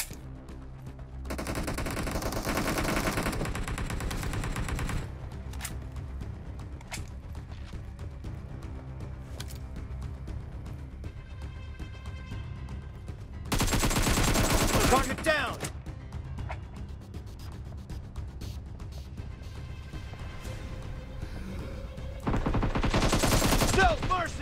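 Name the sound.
gunfire in a mobile shooter video game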